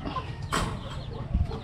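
Broiler chickens in a coop cluck softly and intermittently, with one brighter squawk standing out over a low, steady background rumble.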